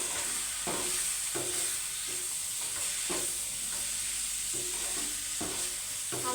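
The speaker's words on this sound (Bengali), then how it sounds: "এখন হালকা করে একটু নাড়াচাড়া করে দেব।" Spicy food coated in masala and sauce is stirred in a sizzling pan, with a steady frying hiss broken by repeated scraping strokes of a spatula at a slow, uneven rhythm.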